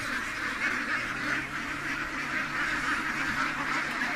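Ducks quack steadily as they are let out, a dense continuous chatter of many birds at moderate distance with no talk over it.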